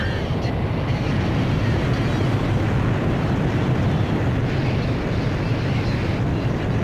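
Jet aircraft launching by catapult from a carrier in Ace Combat 5, a loud continuous roaring rush of engine and wind that holds steady throughout.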